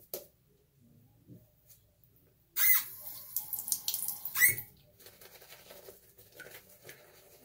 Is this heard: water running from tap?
yes